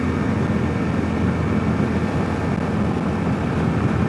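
A 2022 Kawasaki KLR650 Adventure with a 16-tooth front sprocket rumbles at highway speed near 71 mph and speeds up. The engine drone and wind roar are loud and constant, with no speech over them.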